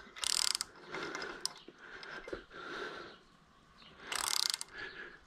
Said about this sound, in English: Let's see if we can run this thread restorer down there